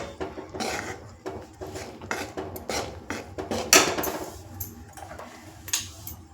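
Ground peanut barfi mixture stirred in a pan, with a spoon scraping and rasping against the metal in a series of irregular strokes close up; no one talks.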